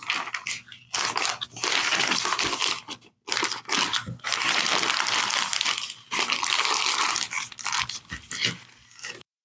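Loud, close crinkling and crackling of paper in long bursts, separated by short pauses.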